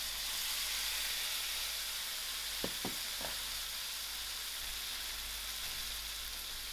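Tomatoes dropped into frying potato masala for a chicken mince kebab curry set off a steady, loud broadband sizzle, with a few brief stirring knocks near the start, no talking.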